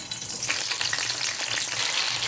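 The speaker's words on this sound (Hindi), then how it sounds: "अब हम शिमला मिर्चें इसमें फ्राई करेंगे।" Bell peppers (shimla mirch) frying in a pan for a chana dal and capsicum dish, with a dense, loud, steady sizzle and crackle close by.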